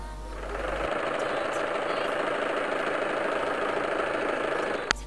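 A sewing machine stitching a canvas anchoring tarp hums steadily at close range for several seconds, a continuous motorized whir with faint rhythmic needle chatter and no talking.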